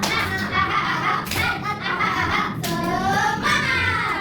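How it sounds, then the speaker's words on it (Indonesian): A classroom of seventh graders does a rhythmic chant-and-clap routine, sharp claps mixed with children's sing-song voices, close and loud throughout. "Ayo kita coba tepuk semangat"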